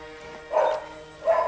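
Two sharp, close barks from a female dog indoors, about a second apart, with no other prominent sound.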